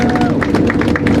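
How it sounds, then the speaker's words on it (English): Passengers aboard the Pikes Peak Cog Railway give the train's operator a quick round of applause, a brief burst of close, dense hand clapping in a confined carriage. "Why don't we give him a quick round of applause?"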